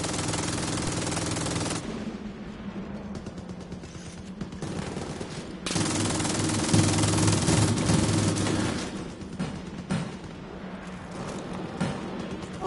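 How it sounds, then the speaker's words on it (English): Rapid sustained bursts of MG machine-gun fire in a video game, loud and close, with dense rattling volleys rolling on almost continuously across the stretch and only brief lulls. "Oh, these MG guns are great."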